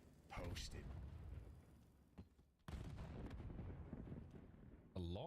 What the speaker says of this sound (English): A lot of frags going off in the background there